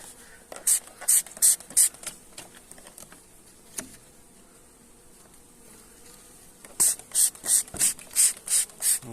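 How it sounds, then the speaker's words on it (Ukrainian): Water spritzed onto an opened beehive frame: two rhythmic runs of sharp hissing spray bursts, close and loud, separated by a quieter stretch, with bees buzzing in the background. "Розпечатав рамочку, трошки збризну водичкою."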